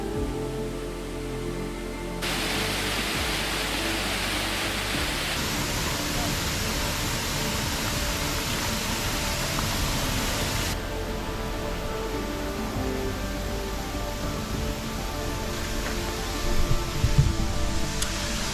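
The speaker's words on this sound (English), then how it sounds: "I think the sound of the water was a little bit overwhelming." Water rushes steadily and loudly through the Amalfi gardens, a dense unbroken hiss close by that shifts in brightness a few times, with faint bumps near the end.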